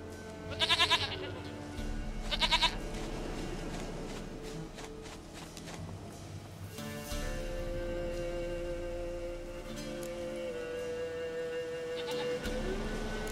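Goat in The Witcher 3 giving two short, nasal bleats early on, then quiet footsteps and a low in-game ambience with a drone and soft music carrying on underneath.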